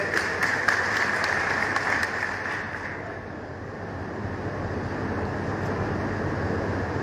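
An audience at a political rally applauds: dense, steady clapping from a large crowd that sounds a little distant and washy, fading slightly midway before holding steady, with a low rumbling hum beneath.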